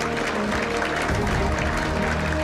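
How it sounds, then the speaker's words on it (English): Steady, loud applause from a convention audience at a political party gathering in New Zealand, a dense wash of clapping throughout with a faint voice underneath. "So just another round of applause"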